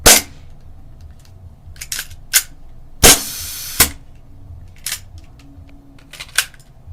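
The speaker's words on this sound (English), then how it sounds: "Alright, now full auto, here's what happens." Airsoft gun fired in full auto, giving sharp, close snapping cracks in short scattered bursts with quiet gaps between them, one longer rattling burst near the middle, and no talk.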